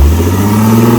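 An off-road car's engine revs loud and close, a steady throaty drone with a strong low hum throughout.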